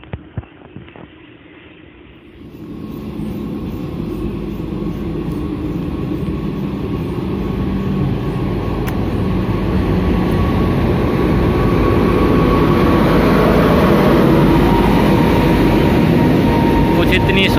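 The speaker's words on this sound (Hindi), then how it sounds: "तो अभी आ चुके हैं रेलवे स्टेशन पे और रेल दिखाई दे रही आती हुई।" A train arrives at a railway station in Safidon, Haryana, its rumble rising from a few clicks into a loud continuous roar that keeps building as it nears and passes close by.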